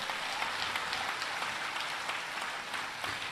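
An audience at a large Hindu religious gathering in Fiji claps, a dense, steady wash of applause that holds at moderate loudness for several seconds without talk.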